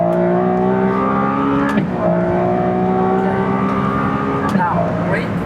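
Ferrari F80 sports car on a race track, its engine winding up through the gears in loud close-up cabin sound, with rising pitch broken by two quick shifts and a driver talking underneath.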